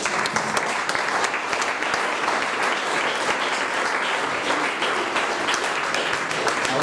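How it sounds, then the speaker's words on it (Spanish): A church congregation applauds for Jesus with dense, sustained clapping from many hands, loud and continuous throughout, with no talking. "Dale un aplauso a Jesús."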